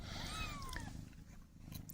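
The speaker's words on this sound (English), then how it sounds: "They're also a very noisy group of kittens." Several young kittens cry with thin, rising and falling mewing calls, a couple of overlapping wails early on, then quieter rustling and a faint later squeak, heard close up.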